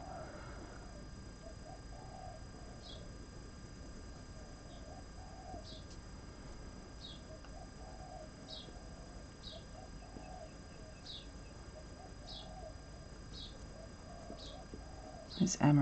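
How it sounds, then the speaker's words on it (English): Doves coo outdoors in soft, repeated low phrases at an even pace, faint and somewhat distant, while sparrows chirp intermittently over a quiet background. "Amorous doves out there."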